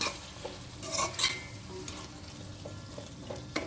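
Bottle gourd and tomato are stirred in a pan, a spatula scraping and clinking in short bursts over a soft sizzle, close and fairly quiet.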